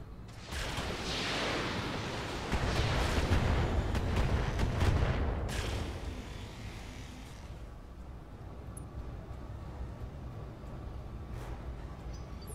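Autocannon fire aimed at a turret in the video game Roguepoint, a heavy rumbling barrage of rapid booming shots that swells for several seconds, then trails off into a low mechanical hum and distant rumble.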